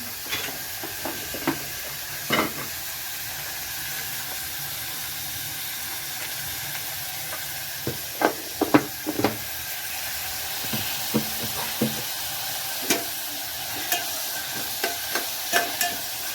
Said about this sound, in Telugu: తర్వాత టమోటాలు వేసుకొని బాగా కలుపుకోవాలి.